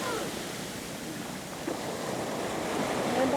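Sea waves wash onto a beach in Samar, Philippines, a steady broadband surf roar that builds slightly toward the end, mixed with wind noise and no speech.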